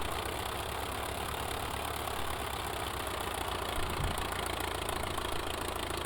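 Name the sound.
JN-4 Jenny biplane engine idling while taxiing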